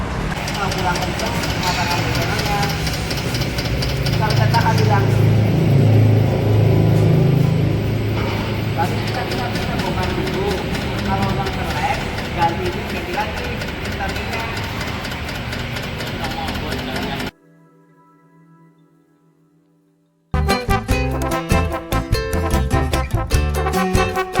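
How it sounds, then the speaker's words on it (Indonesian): A Kyoto shaking machine tests a car's suspension, giving a steady mechanical rumble and rattle under people talking. The sound stops abruptly into near silence, then other busy sounds start up. "ada alat juga, shaking mesin, namanya Kyoto shaking mesin"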